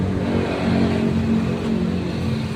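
A small 1-liter engine runs steadily at a fairly high pitch, revving and holding a loud, buzzing drone close by throughout.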